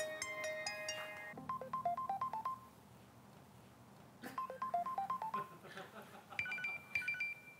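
Mobile phone ringtone samples played in a row: bright electronic beeping melodies in quick rhythmic bursts, with short pauses between tunes and faint talk underneath.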